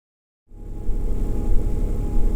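A car's own engine rumble heard through noise-cancelling earphones, beginning abruptly after a brief silence, then a low, steady, muffled drone continuing at moderate level.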